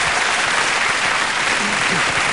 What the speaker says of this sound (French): votre ami qui applaudit à chaque fois que vous dites deux mots